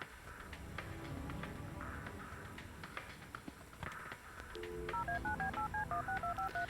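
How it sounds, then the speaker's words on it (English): A telephone number is dialed in the video game Kathy Rain: a quick run of evenly spaced touch-tone beeps, clear and close, following a stretch of muffled background game sounds. "Make my phone call."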